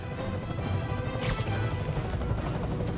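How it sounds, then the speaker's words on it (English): Loud crash and smash from a video game as a helicopter swinging a wrecking ball strikes, a sharp impact burst near the middle over steady game rumble and noise. "I'm getting reports of a helicopter with a wrecking ball."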